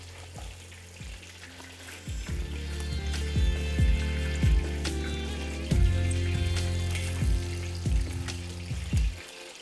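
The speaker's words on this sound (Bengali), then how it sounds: "অপর দিকটাও ভালো করে ভেজে নিন।" Katla fish frying in oil in a pan, a close, steady sizzle and crackle with repeated low thumps and knocks of utensils against the pan, no talk.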